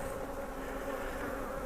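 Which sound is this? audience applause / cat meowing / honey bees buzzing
honey bees buzzing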